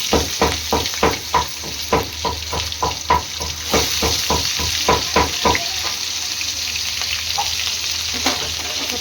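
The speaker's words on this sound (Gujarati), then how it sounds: "તો હવે એમાં આપણે નાખી દેવું ડુંગળી અને મરચું" Onion and chili tipped into a hot pan of oil with whole spices give a loud, steady sizzle, broken by a run of rhythmic stirring scrapes through the first half, then a calmer frying hiss, with no talking.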